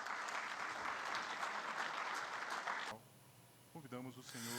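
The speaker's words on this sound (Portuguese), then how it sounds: "Mais uma salva de palmas." Audience applause at an honors ceremony for space-sector employees, a steady round of clapping that cuts off abruptly partway through, followed by a person speaking.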